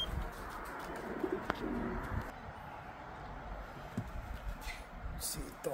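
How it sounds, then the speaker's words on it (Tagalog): Racing pigeons cooing and fluttering around a loft as a bird returns from a hard race, a steady low murmur of coos with brief chirps, people talking nearby over the flock. "dumating na yung pang-anim na bird natin mga kalapatids"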